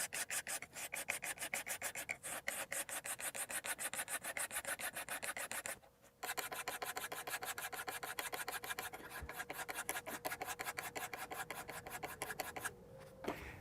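Metal file scraped in rapid, regular back-and-forth strokes across an oilstone to flatten its face, a harsh rasping rhythm that is close, fairly quiet, and broken by one short pause.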